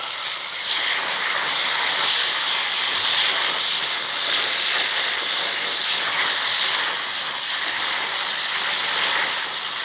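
Ginger garlic paste hits softened onions in a hot pan while a chicken pineapple curry is cooked, giving a loud, steady, close sizzle that carries on unbroken throughout.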